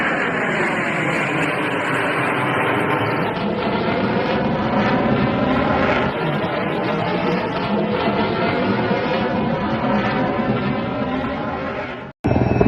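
An airplane making a low pass at an air show, striking birds, produces a loud, sustained broadband engine roar that holds steady for several seconds before a sudden sharp break near the end.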